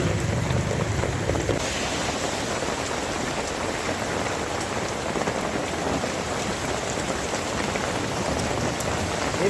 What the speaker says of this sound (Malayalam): മഴ പെയ്തെന്ന് കണ്ടില്ലേ